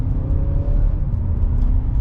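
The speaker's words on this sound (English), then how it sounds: "you can still hear the physical engine just a little bit" 2025 Honda Accord Hybrid EX-L engine pulling up under acceleration in eco mode, a steady low hum and whir heard from inside the cabin, continuous and moderately loud with a faint rising tone.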